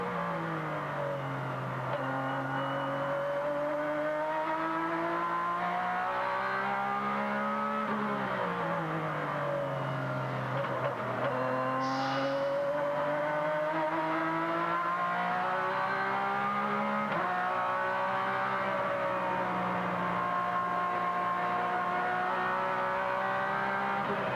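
A sports car races around the track at a 2003 Grand American Rolex Sports Car Series Grand Prix, its engine roaring continuously for over twenty seconds, pitch climbing and dropping through gear changes and corners, loud and up close without commentary.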